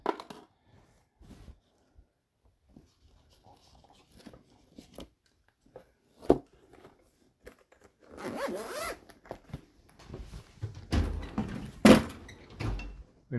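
A workshop drawer is pulled open and rummaged through during a guitar setup, with scattered clicks and small knocks followed by louder rattling, scraping and clattering of tools and parts close by.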